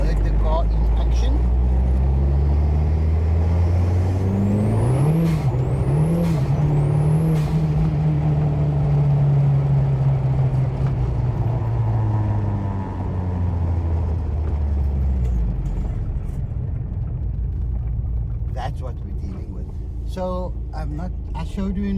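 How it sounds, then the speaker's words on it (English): Citi Golf 1.8T driving on the road, heard from inside with a loud engine rumble that climbs and falls through gear changes, with whining rises in pitch; people talk over it. "Sorry if it's a bit noisy, but I don't think you guys have heard the car in action."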